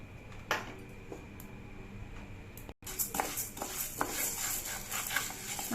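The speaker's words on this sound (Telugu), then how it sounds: "మనకి వేగుతుందండి కందిపప్పు చూసారా." Toor dal roasts in a pan while being stirred, giving soft scraping and clinking of the spoon against the pan with faint crackling, quiet and close, broken by a brief gap.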